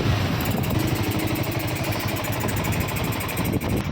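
A vehicle engine running steadily just after starting, a close, loud, continuous mid-pitched rumble with a fine regular throb and no talk over it.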